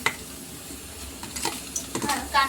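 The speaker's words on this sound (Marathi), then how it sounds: "तर सर्वात आधी आपण भुजून घेऊ याच्यावर कांदा" Chopped onion stirred on a hot tawa, a utensil scraping and clinking against the pan over a soft sizzle, with a few brighter metallic taps near the end and light talk in the background.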